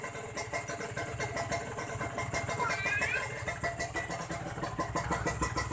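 A Kawasaki Ninja R motorcycle engine idles with no throttle applied, with a steady, close, rapid two-stroke putter that holds an even level throughout.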